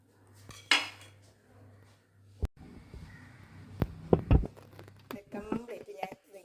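A knife slices through raw plantain on a hard surface with sharp, irregular clacks and scrapes, a few close strikes standing out against a quiet background; a voice speaks briefly at the start.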